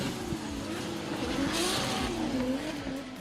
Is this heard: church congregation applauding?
no